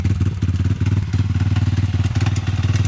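A running motorcycle engine makes a regular metallic ticking, a fast, evenly pulsing clatter over a low steady thrum, loud and close with no voices.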